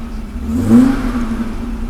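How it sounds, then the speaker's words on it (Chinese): An Audi 90 engine, just back from repair, revs up in an acceleration test: a loud, steady engine drone that swells briefly in pitch and volume before settling, heard close and alone. "我们来做个加速看看。"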